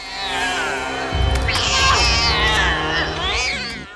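A cat in the 2009 stop-motion film Coraline lets out a loud, drawn-out, wavering meow that rises and falls over several seconds against a steady background tone.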